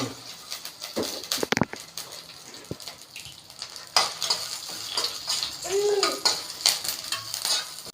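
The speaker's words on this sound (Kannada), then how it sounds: "ಇದನ್ನು 1 ಟೇಬಲ್ ಸ್ಪೂನ್ ಆಯಿಲ್ ಹಾಕ್ಕೊಂಡು ಫ್ರೈ ಮಾಡ್ಕೋಬೇಕು." Curry leaves, dried chillies and garlic fry in a tablespoon of oil, giving a soft sizzle under intermittent stirring and clinks of a spoon against the pan, close and fairly quiet.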